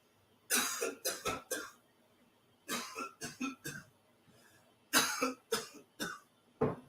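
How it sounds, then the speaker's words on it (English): A person coughs three times in three separate bursts, each a quick cluster of harsh, close-up coughs with short pauses between, and no talking. "Instead of saying mo, mo, mo, I was coughing 3 times."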